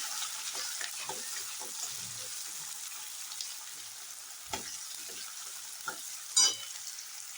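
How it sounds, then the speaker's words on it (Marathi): Finely chopped onion, one large one, fries in oil over cumin and popped mustard seeds for a potato and pea curry, giving a steady close sizzle with a few stirring clicks and one louder scrape near the end. "हा बारीक चिरलेला एक मोठा कांदा हा तेलात चांगला असा फ्राय करून घ्यायचा आहे"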